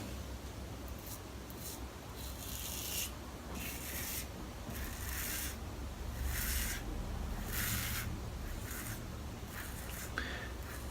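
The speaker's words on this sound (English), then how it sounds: "what I'm doing now is I'm actually pretty much lifting the razor off my head" Repeated strokes of a Wunderbar slant safety razor scraping across seven days of stubble on a head, shaving against the grain; steady close rasping passes in a regular rhythm, no talking.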